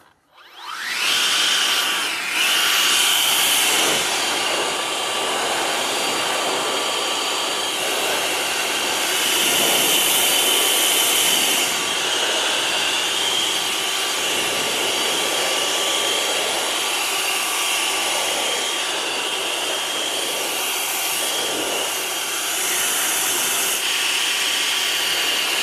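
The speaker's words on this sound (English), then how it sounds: "Ego blower." An EGO cordless leaf blower blows water off Yeti and Giant mountain bikes, a loud, steady, airy roar that runs unbroken for about 25 seconds with slight surges in force.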